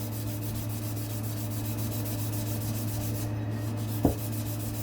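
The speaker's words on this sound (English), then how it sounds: "I'm just sanding away, going one direction throughout the whole body of the muffler" Aluminum nitro helicopter muffler sanded by hand with 400 grit sandpaper in one direction, a soft continuous close rubbing hiss over a steady low hum, with one small knock near the end.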